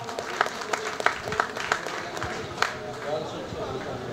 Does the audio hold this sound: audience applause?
yes